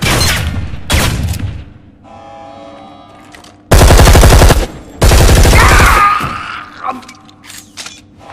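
Gunfire from the Deep Black video game comes in two long, loud sustained automatic bursts, with shorter blasts and lingering reverberant tones between them.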